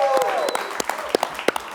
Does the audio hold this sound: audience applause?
yes